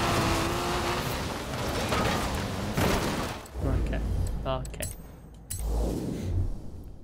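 Peugeot 207 Super 2000 rally car racing in Forza Horizon 4, engine revving and shifting with bursts and drops, someone talking over parts of it.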